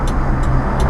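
A 1988 custom Honda Acty SDX HA1 flatbed kei mini truck drives in first gear and turns at a traffic light onto a two-lane street, with a loud, close, steady engine rumble.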